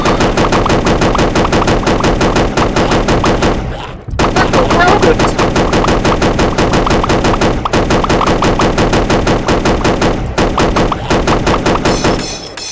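Rapid, continuous automatic gunfire from a video game blasts loud and dense, with only brief pauses around four and ten seconds before the barrage resumes.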